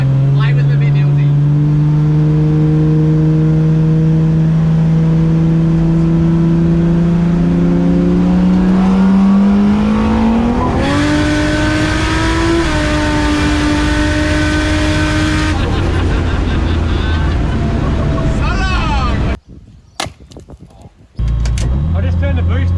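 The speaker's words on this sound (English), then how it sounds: "This is a fine racing machine, Woody." A Barra-engined seven-seat Bedford van revs hard while racing, the loud engine note climbing steadily in pitch and holding high before cutting out briefly near the end, with voices talking over it.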